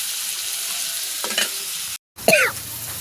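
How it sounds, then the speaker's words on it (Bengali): Cut pieces of rohu-type fish sizzling with spices and tomato in a pan, a steady soft fry with a brief stir and clatter of a spatula near the end, no voices. "কষা হচ্ছে মশলার সঙ্গে"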